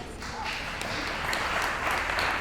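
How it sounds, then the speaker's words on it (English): An audience claps at a candidate forum for a Wisconsin state assembly seat, a steady wash of many hands rising slightly toward the end, with voices murmuring underneath. "Aurelia, you're clapping too loud."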